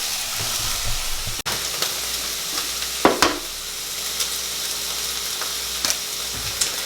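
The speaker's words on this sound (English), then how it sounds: "I'm gonna crack 3 eggs up in here right quick" Three eggs hit a hot pan for fried rice and sizzle loudly and steadily up close, broken by a sharp knock near the start and a brief burst of spattering midway, with no voices.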